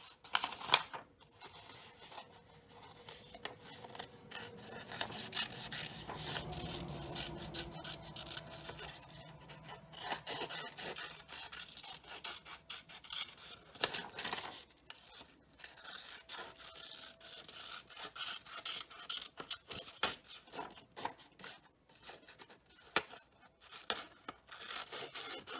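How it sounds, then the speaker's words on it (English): Scissors cut a paper flower out of a sheet in a quiet setting, producing soft, intermittent snipping and rustling of paper at close range, scattered unevenly over a long stretch. "después vamos a cortar la flor de la hoja"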